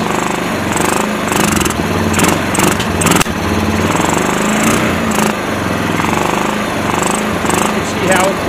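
Motorcycle engine fitted with a Keihin CVK carburetor, choke on, revving loudly and steadily with repeated throttle blips, close up, while someone talks over it.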